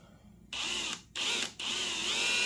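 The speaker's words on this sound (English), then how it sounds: "I'm going to take this drill." A power drill runs in three bursts, with brief pauses between them, its high whine loud and close as it bores a hole into a Husqvarna 55 Rancher chainsaw.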